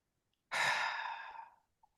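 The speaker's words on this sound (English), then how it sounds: "Take a slow breath in." A single slow, audible breath drawn in close to the microphone and easing off over about a second, alone in quiet.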